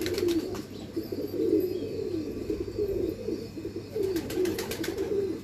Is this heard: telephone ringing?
no